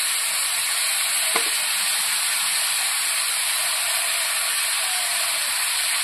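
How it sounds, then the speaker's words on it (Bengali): Torn green chillies go into a hot pan of oil for a fish curry with pumpkin and raw mango, giving a steady bright sizzle and hiss with one brief sharp crackle near the start. "এবার কাঁচা লঙ্কা ছেঁড়াগুলো দিয়ে দেবো।"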